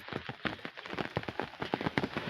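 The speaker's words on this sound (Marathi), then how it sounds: "चांगलं भिज पाणी चालू आहे." Steady drizzling rain patters outdoors in a quick, uneven run of soft drops that stays moderately loud throughout, with no talking.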